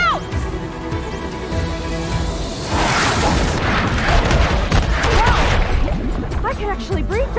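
A defensive tower in the Horizon Forbidden West video game fires on the player, heavy booms and crashing impacts landing in a loud, rapid barrage that builds in the second half.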